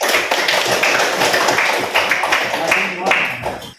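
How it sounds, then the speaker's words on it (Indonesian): Students in a classroom clap for a presenting group: uneven, close-up claps and taps from a small gathering, mixed with voices talking over them. "Kita beri tepuk tangan untuk kelompok 1."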